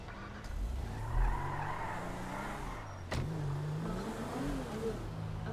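A video game car engine drones and revs, then the tires squeal in a long skid with a sudden bump partway through, the motor rising and falling in pitch afterward.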